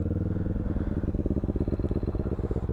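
A 2024 Kawasaki Z500 motorcycle engine turns over and settles into a rapid, throbbing idle, its low pulsing beat close and steady throughout.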